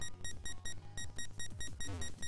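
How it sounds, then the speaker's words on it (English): Rapid electronic beeping from a computer in the Pokémon Rejuvenation game repeats in regular bursts about four times a second, bright and insistent over a low synth music bed. "What the hell is with this beeping noise?"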